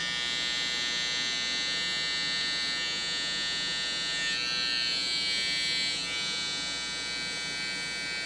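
Electric hair trimmer cutting curly hair during a taper fade, a steady close buzzing hum that runs without a break and shifts slightly in tone as it moves through the hair, no voices.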